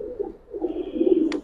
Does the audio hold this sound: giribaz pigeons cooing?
yes